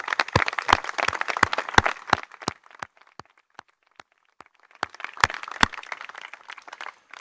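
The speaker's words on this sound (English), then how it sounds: "Let's please give them all a round of applause." A crowd applauds police, firefighters, EMS and medical personnel at a Westchester County memorial ceremony marking the 20th anniversary of 9/11. Loud, sharp individual claps thin out to a few scattered ones midway, then swell again into fuller applause.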